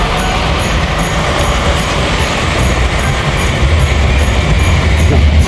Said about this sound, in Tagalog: Yan ang train mga kaabos.